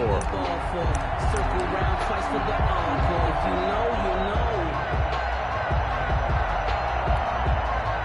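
Stadium crowd in a Madden American football video game, a steady dense roar of cheering and murmur filling the whole stretch, with a commentator talking over it.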